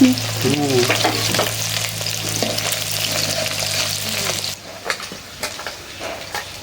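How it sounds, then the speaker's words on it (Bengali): Climbing perch fish sizzling and crackling in hot oil, a steady loud frying hiss with occasional stirring scrapes, close by. "কই মাছ ভাজা হয়ে গেছে, উঠাই নেই।"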